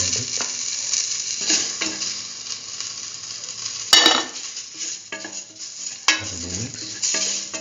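Powdered spice mixture sizzling as it fries in a pan with lentil rice, with bursts of stirring scrapes and utensil clinks against the pan, close and steady.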